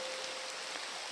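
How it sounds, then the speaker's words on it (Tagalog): Heavy rain pours down as a dense, unbroken roar of drops striking surfaces, steady and fairly loud from start to end, with no one speaking. "malakas pa rin yung ulan doon"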